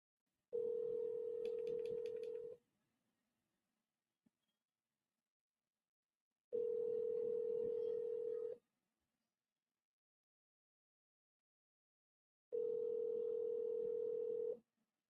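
Three identical telephone ringback tones about two seconds each, spaced evenly several seconds apart, clear and steady with silence in between and no talk.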